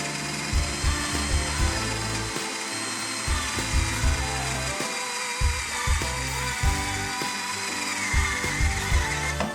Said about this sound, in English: Now I'm about to screw the holes for these carriage bolts.